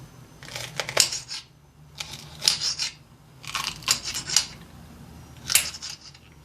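Crisp knife strokes through green peppers on a cutting board, coming in short irregular bursts with pauses between, close and moderately loud, for a green pepper omelette.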